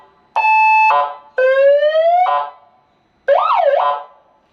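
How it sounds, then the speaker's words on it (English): A siren installed on a Can-Am Ryker motorcycle blares at close range in three loud bursts: first a steady tone, then a rising wail, then a warbling yelp, with short silences between. "So I just installed the siren."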